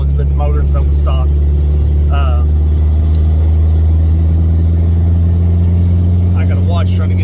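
A Dodge Neon SRT4 with big tires and a stock 2.0 engine with headers and bolt-ons drives in the rain, its steady engine drone loud and continuous, with someone talking over it.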